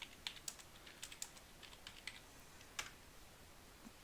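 A server name is typed on a computer keyboard: light, quiet key clicks in irregular short bursts with a steady faint background hiss.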